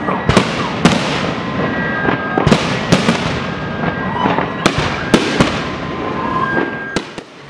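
Repeated fireworks bursting in the sky during a holiday or wedding celebration, sharp loud bangs and crackles at irregular intervals over a steady background rumble, with no voices.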